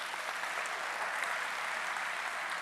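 A church congregation claps in steady, dense applause, an even wash of many hands throughout without pauses.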